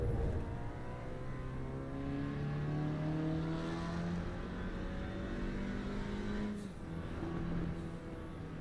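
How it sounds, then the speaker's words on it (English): A Lexus LFA engine in a racing video game holds a steady, sustained high-revving tone with rising harmonics, then briefly drops and climbs again on a gear change, loud and continuous without speech. "The Lexus LFA is a beautiful sounding engine"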